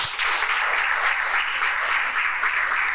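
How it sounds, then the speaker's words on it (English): An audience claps for the panel at the close of an environmental debate, dense steady applause filling the room, loud and sustained without pause. "we'll ask them to clap for us"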